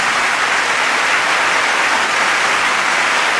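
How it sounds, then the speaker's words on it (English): Roaring crowd applause at a political rally, a thick continuous wash of clapping hands, loud and unbroken with no talk on top. "I'm worried the clapping is too loud."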